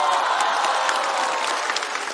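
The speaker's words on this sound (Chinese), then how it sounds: "我们掌声有请帆不帆" A stand-up comedy audience breaks into steady, dense applause to welcome a comedian onto the stage, loud and sustained with a faint crowd murmur mixed in.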